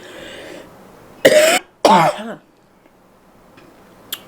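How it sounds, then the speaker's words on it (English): Two loud, harsh coughs close to the mic, a short pause between them, followed by a raspy throat-clearing tail and near silence. "I'm sorry for the cough and the scratchy throat"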